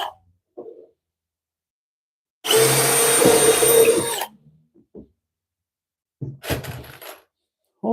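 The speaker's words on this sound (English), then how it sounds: "Hopefully I drilled that big enough." A loud power drill bores into very hard maple in a single burst of about two seconds, whining and grinding, followed by quiet clicks and another short tool burst.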